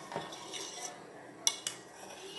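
A spoon stirs butter melting in a pan on a low gas flame while ghee is made. Soft metallic scraping is heard with two sharp clinks against the pan, all quiet and without talk.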